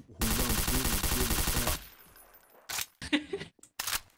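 Rapid automatic gunfire from a Garry's Mod DarkRP round, a dense burst lasting nearly two seconds, loud and close, followed by a few short voices talking.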